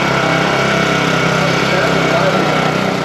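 A small mini bike engine idles close by, a loud, steady, buzzing drone that never lets up, heard alone without talk.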